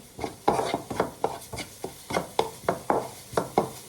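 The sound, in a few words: stirring masala mixture in a pan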